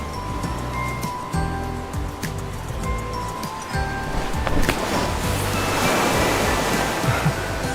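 Ocean waves on a beach in a video game: a steady roar of surf that swells into a broader wash of breaking water toward the end, loud and continuous, with faint tonal game sounds mixed in beneath.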